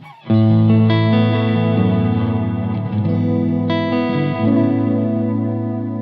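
An electric guitar is played through a Roland Space Echo RE-201 tape echo: a few sustained, distorted chords and single notes with smeared, warbling repeats trailing after them, steady and alone without speech.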